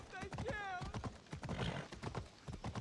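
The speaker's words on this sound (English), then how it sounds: "Horses go here." Horse hooves clip-clop along a road in Assassin's Creed Odyssey, a repeated rhythmic beat with a brief whinny-like sweep near the start, mixed under game sounds and someone talking.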